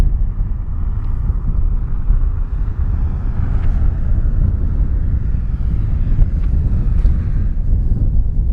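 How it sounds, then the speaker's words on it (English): Strong wind buffets a microphone on top of a rock near Santa Susana's Spahn Ranch, a constant low rumbling roar with no break and no voices. "A little bit windy on top of this rock"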